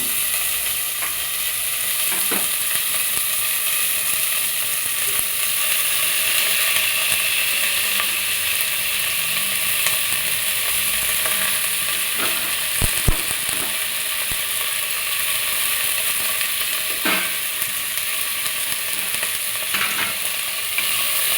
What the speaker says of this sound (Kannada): ಈಗ ಎಲ್ಲದನ್ನು ಮಿಕ್ಸ್ ಮಾಡಿಕೊಂಡು ಚೆನ್ನಾಗಿ ಸ್ವಲ್ಪ ಹೊತ್ತು ಫ್ರೈ ಮಾಡ್ಕೊಬೇಕು